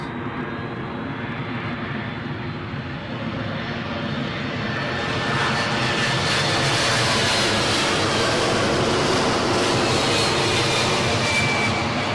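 A jet airliner on final approach to runway 27 at London Heathrow, a steady broadband engine roar that swells louder over the second half as the aircraft draws nearer, with no talking.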